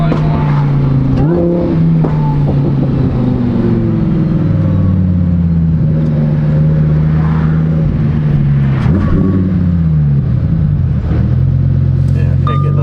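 A Lamborghini Huracan fitted with a race exhaust roars loudly up through the gears, its engine note climbing and dropping at each sharp shift, with a crackle around the changes and the engine sustained close and continuous throughout.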